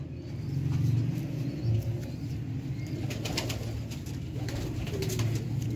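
Sialkoti pigeons on a rooftop coo with low, rolling throaty calls, with occasional wing flaps and rustling over a steady outdoor background.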